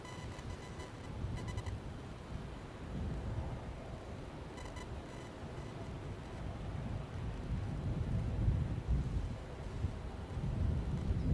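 Wind gusting at Edinburgh airport, a continuous low rumbling roar of air buffeting the microphone that swells and surges in strength, with no voices.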